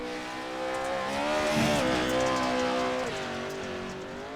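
Pro 2 Lite off-road race trucks race at Wild West Motorsports Park, their engines droning at a moderate distance with pitch that climbs, dips and rises again as they throttle through the course.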